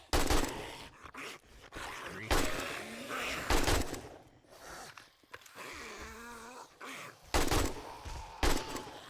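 Gunfire in 7 Days to Die during a horde night comes in repeated sharp shots at uneven intervals, several loud bursts cutting through a busy background of game noise.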